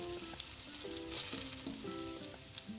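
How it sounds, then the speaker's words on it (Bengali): Soya chunks frying in oil in a home kitchen, a dense bubbling sizzle heard up close and steady throughout, with tonal background hum and no voices. "লাল করে ভেজে তুলে নেব।"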